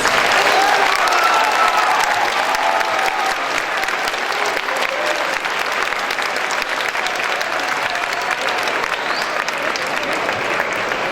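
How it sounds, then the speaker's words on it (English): Sustained applause from students and staff for graduating seniors at a school moving-up assembly, a dense, steady crowd clapping throughout with a few faint voices mixed in. "let us give these graduates one more round of applause"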